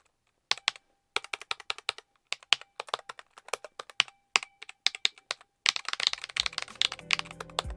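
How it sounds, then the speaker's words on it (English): Rapid clacking of keyboard switches on an all-button controller fitted with the tape mod, a steady run of close, crisp keystrokes that thickens into denser, busier typing toward the end. "I went ahead and tried a known keyboard hack called the tape mod, and I noticed a little improvement in sound."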